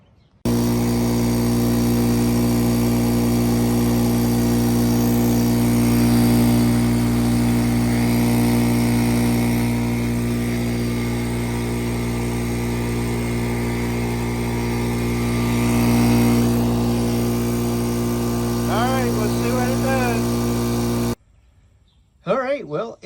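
An air compressor runs with a loud, steady mechanical hum and drone for about twenty seconds, then its pressure switch cuts it off abruptly, leaving near silence with a couple of small clicks.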